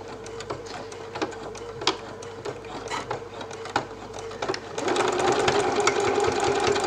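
A sewing machine stitching a fabric bookmark, a steady rapid mechanical whirr with light periodic knocks, then running faster and louder toward the end, heard close with no talking.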